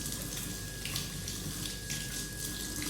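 A kitchen tap runs steadily into a sink while young children wash dishes, a constant splashing hiss of water with no talk over it.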